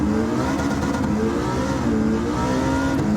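A rear-wheel-drive V8 muscle car in Gran Turismo 7 revs hard during a drag race launch in second gear, its steady throaty engine drone loud and continuous with rising harmonic tones.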